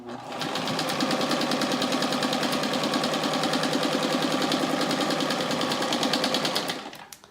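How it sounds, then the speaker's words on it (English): A sewing machine stitches quilt pieces in one fast, steady run of rapid mechanical needle chatter, close and even, winding down at the end. "When you're sewing like that, don't hold back on it. Just let the machine carry it."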